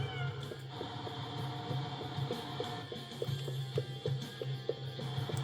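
A cat in the video game Indigo Park gives a series of short, repeated meows over a low steady background hum, moderately faint.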